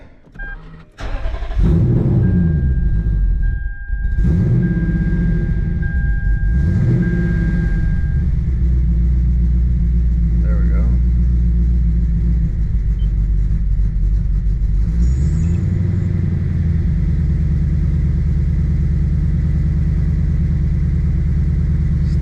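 A supercharged Lexus IS F engine cranks and fires about a second in, then settles into a loud, close, steady idle with a low rumble and small revving swells that continues to the end.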